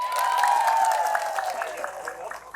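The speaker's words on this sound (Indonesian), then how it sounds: "Tepuk tangannya mana?" Audience at a live outdoor stage show claps, a burst of scattered hand claps fading over a couple of seconds, heard beneath a loud amplified voice and ringing tone at the start.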